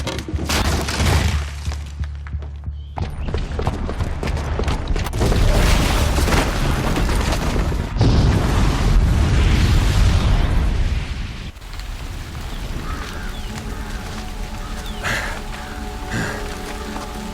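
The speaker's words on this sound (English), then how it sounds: "the booby trap on the bomb downstairs is gonna get set off" Bomb booby trap detonating in the video game Horizon Zero Dawn, a loud heavy boom followed by long rumbling blasts and falling debris, fading to a lower crackling roar.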